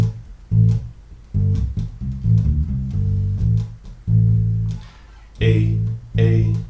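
Electric bass plays a minor pentatonic line with muted ghost notes, a handful of plucked low notes stepping between pitches with short gaps, played alone and up close.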